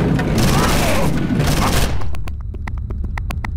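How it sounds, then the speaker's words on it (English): Submachine gun fire in the video game Condemned: Criminal Origins, a loud burst of rapid shots that shifts into a string of separate sharp cracks with short gaps between them. "This big old submachine gun."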